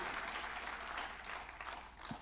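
Audience applause at a comedy show, a loud sustained wash of crowd clapping that stays steady for the whole short stretch.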